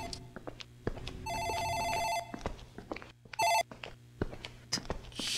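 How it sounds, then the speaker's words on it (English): A desk telephone rings in an office in the video game Dark Fracture: a longer bright electronic ring, then a short second burst, alone among faint scattered clicks and room noise. "I think that's the phone in the office ringing."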